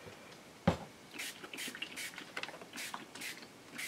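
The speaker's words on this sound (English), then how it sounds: "I'm going to spray this indoors" Fixative spray hisses in several short bursts onto art journal paper coated with PanPastels, sprayed indoors in a steady series of quick, close passes.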